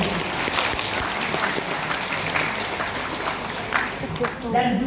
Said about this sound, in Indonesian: tepuk tangan untuk gereja